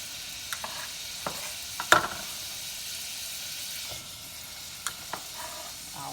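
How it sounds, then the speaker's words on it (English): Diced vegetables sizzle in melted butter in a pot as a black-eyed pea dish begins, with a steady close hiss and a few sharp clinks and stirring scrapes scattered throughout. "with my butter being melted down, I'm going to go ahead and add my vegetables in here"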